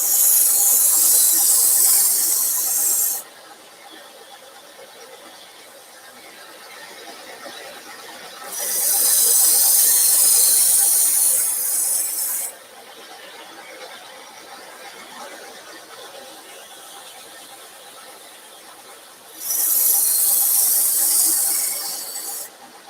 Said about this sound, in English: You start doing a lot of grinding, you can end up putting a bunch of heat in the blade